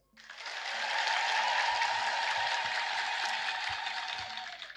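A church congregation at an Ethiopian Orthodox sermon bursts into applause, a dense, even wash of clapping that rises quickly and holds steady for several seconds before tapering.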